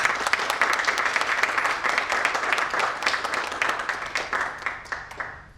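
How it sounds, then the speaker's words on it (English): Audience applause at an event in the Park Hyatt Hotel, a dense wash of many hands clapping at steady strength that thins and fades out toward the end. "Can we have a round of applause for him?"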